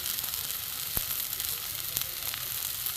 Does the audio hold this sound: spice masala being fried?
yes